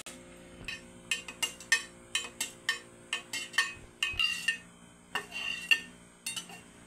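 A spoon stirs and taps against a bowl while buko jelly salad is being mixed, giving repeated quick metallic clinks and scrapes in an uneven rhythm, close and fairly quiet, with no voices.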